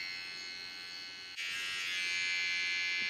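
An electric body-hair trimmer buzzes steadily with a high whine, briefly cuts out, then resumes a touch louder and brighter as it works across the skin.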